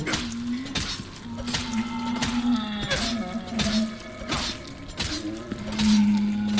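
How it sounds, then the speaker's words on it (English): A cow lowing in the video game Resident Evil, drawn-out moos sounding repeatedly over a game soundscape punctuated by sharp clinking, breaking hits. "Sounds like the cow."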